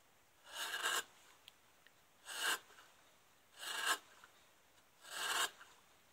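A chisel cuts into a wooden bowl near its rim, giving four separate rasping scrapes at a steady pace, each about half a second long. The strokes sound close and fairly soft, with quiet pauses between them.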